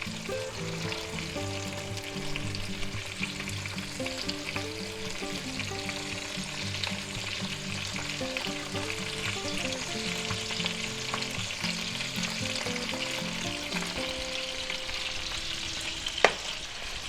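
Boneless pork chops sizzle steadily in a cast iron skillet, a continuous frying hiss with faint background tones and one brief sharp knock near the end.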